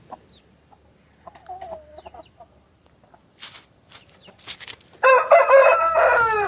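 A ten-month-old rooster on a rooster farm crows loudly and close by near the end, a long harmonic call after quieter clucks and rustling.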